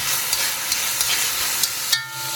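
Garlic and chopped Vidalia onion frying in olive oil in a Dutch oven, a loud, steady close sizzle with a few scraping stirs of a utensil against the pot before the sizzle drops off at the end.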